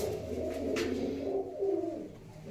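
Pigeons coo softly in low, rolling calls at fairly close range, a few overlapping phrases over quiet outdoor background with no talk.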